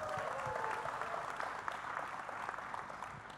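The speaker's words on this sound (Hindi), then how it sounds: "जोरदार तालियां हो जाए." Audience applause at a film trailer launch event in Mumbai, a steady wash of clapping from a crowd that fills the whole stretch at a moderate, even level.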